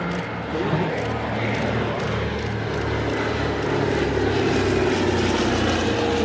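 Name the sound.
Douglas C-47 Skytrain propeller aircraft engines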